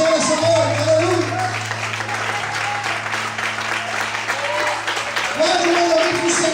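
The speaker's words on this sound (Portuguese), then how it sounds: "Será que você pode aplaudir e exaltar o Senhor nessa noite?" A church congregation applauds during an evening service, a steady wash of clapping under a low sustained organ or keyboard tone, fairly close and continuous.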